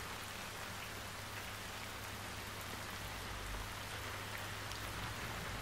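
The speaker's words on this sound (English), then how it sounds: "It's raining outside." Steady rain falls and patters on a surface, a dense, even hiss of drops with no voices, continuous throughout.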